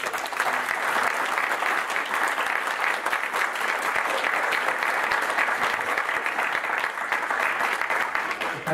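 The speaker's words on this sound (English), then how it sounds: "Let's give them a round of applause." A crowd applauds steadily at a university music department alumni brunch, dense clapping sustained throughout at an even, fairly loud level without a break.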